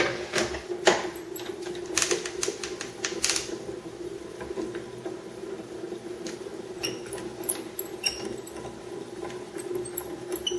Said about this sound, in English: run it through your die cut machine